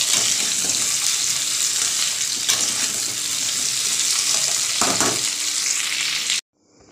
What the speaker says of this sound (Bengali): মাছগুলো ভাজা হয়ে গেছে, এবার সবজিগুলো ভেজে নেব।